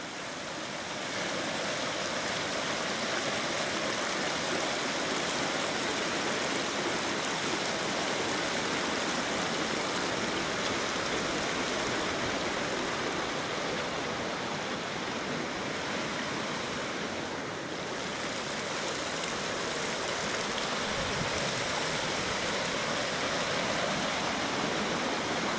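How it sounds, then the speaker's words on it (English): Frenchman Creek on the Colorado Trail flows right beside the listener, a loud, steady, unbroken rush of water that stays constant throughout with no voices. "We're right beside Frenchman Creek."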